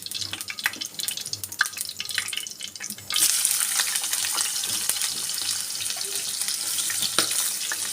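Onions dropped into hot oil for a tilapia fish dish, a sudden bright sizzle that starts partway through and continues as a steady loud hiss, preceded by faint kitchen clatter.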